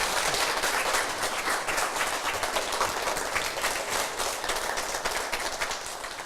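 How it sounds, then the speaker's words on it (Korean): Audience at a Christian talk-concert event applauds steadily, a dense wash of clapping that fills the whole stretch at a fairly loud level and tapers slightly toward the end, with no voices over it. "큰 박수로."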